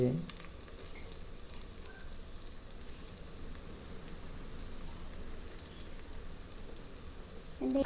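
Fenugreek seeds fry in oil for tamarind rice, giving a soft, continuous crackle like light rain, faint and even throughout. Brief voices sit at the start and end.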